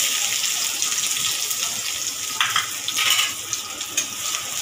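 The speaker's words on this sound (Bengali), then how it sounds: "পেঁয়াজটাকে একটু লাল লাল করে হালকা ভেজে দেবো।" Chopped onion frying in hot oil, a steady bright sizzle close by with a few louder spitting bursts and stirring noises breaking through the hiss.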